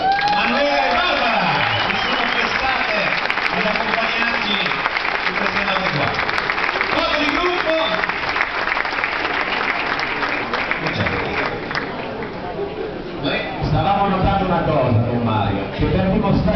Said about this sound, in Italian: E un applauso ancora ai due violiniste, Manuela e Barbara.